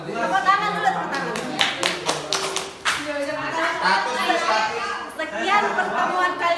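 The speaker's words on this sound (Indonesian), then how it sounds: "Tepuk tangan dulu, tepuk tangan." Students in a classroom clap together in short, uneven bursts at the close of a lesson, mixed with close chatter and a few chuckles.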